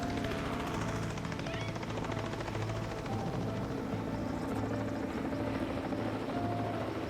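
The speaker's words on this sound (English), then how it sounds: "The helicopter's hovering over him here." A helicopter hovering low over a rhino calf in Africa, its steady rotor thump and engine drone continuous, loud and unbroken, with no voices.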